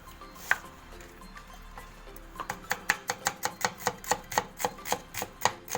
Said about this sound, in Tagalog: Hiwain po natin siya ng maliliit. Ayan, maliliit na cubes.